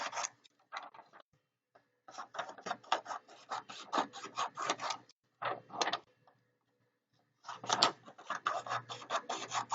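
Scissors trim a sheet of purple paper for a math geometry notebook, with a steady run of close, crisp snipping and rustling that breaks off in short pauses and starts again.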